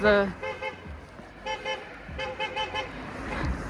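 A car horn honks in a series of short toots, one long blast then several clipped beeps in an uneven rhythm, heard outdoors during a long-distance walking event in Hamburg over faint traffic and background noise.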